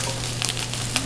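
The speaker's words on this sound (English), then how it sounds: "when I add the Brussels sprouts, I want to hear that big, awesome sound." Quartered Brussels sprouts dropped into hot oil in a pan give a brief, steady close sizzle with a few sharper crackles, alone with no voices.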